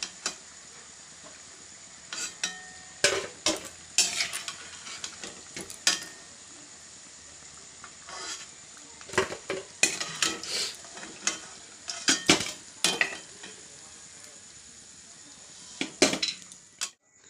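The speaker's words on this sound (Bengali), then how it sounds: "সিঙ্গারাগুলো ভেজে নিচ্ছি" Bengali singaras deep-fry in oil on a medium flame under a faint steady hiss, while loud irregular clinks and clatters of a metal utensil against the pan come and go close by.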